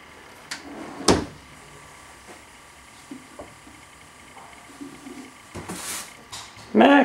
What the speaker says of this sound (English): Do not open that drawer.